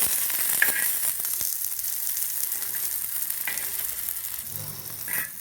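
Green chillies frying in oil for a peanut chutney, a steady loud sizzle with occasional stirring scrapes throughout.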